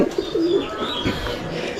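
Pigeons kept on a home rooftop coo in a few close, low, rolling calls, with faint background noise between them.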